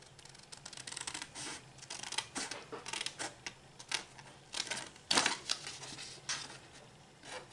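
Scissors snipping through a cardboard tab while making a box-dispenser style advent calendar, a run of close, sharp cuts and small rustles with a louder snip near the end.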